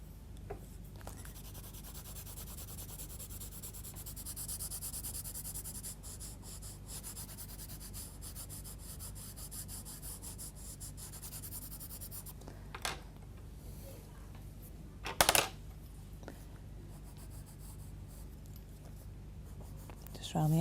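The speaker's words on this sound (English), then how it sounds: "I'm going to start using the tip of the pencil again, so I've got more control there." Colored pencil scratches and rubs on paper in a continuous soft shading texture, close and quiet, with a couple of brief louder strokes or taps near the end.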